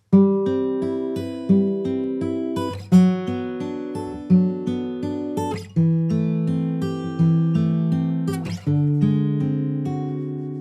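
Slow, plucked guitar chords ring out one after another, each strum decaying before the next, with a few sharper accents; no voices.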